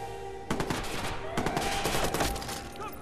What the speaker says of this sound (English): They'll keep shooting where you were.